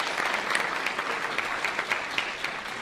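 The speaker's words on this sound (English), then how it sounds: "A round of applause for them, because I appreciate it." Steady applause from a live audience at a political Q&A event, dense and continuous clapping filling the room for about three seconds with scattered louder claps.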